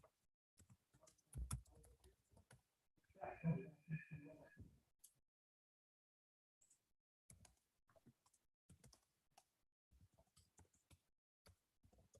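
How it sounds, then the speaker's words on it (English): Soft, scattered keyboard typing in a subcommittee meeting room, clicking in short bursts around brief speech from the people present. "I love it that somebody else typing this time"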